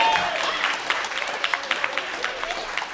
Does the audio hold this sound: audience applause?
yes